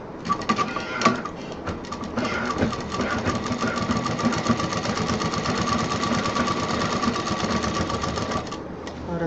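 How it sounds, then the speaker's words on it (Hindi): A sewing machine stitching the bottom of a fabric bag, a close, steady rapid mechanical chatter running nearly continuously for several seconds before stopping near the end. "नीचे का जो सबसे नीचे का बॉटम है उसको पहले हम सिलेंगे"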